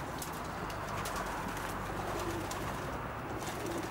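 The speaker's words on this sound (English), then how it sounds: "There's quite a few pairs of stock pigeons, all top quality long distance." Stock long-distance racing pigeons cooing inside a loft, a soft continuous murmur of overlapping coos from many birds under steady background noise, with no talking.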